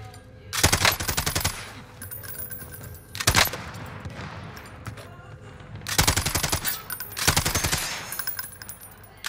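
Automatic gunfire in a Warzone video game gunfight, loud rapid bursts of shots in several clusters separated by brief pauses, close and sharp.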